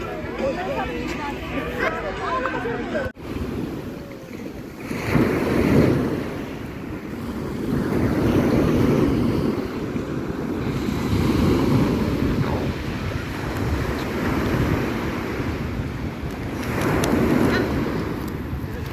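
Waves and wind at a seaside beach during a children's holiday outing, a steady broadband wash with gusty wind rumble on the microphone and people talking over it.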